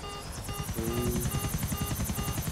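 Helicopter in the video game GTA 4, a steady rhythmic rotor chop with a whining engine tone, held at moderate level for the whole stretch without talking.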